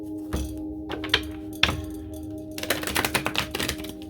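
Tarot cards shuffled up close: a few soft taps and flicks, then a rapid riffle of crisp, rustling snaps, over a low constant hum.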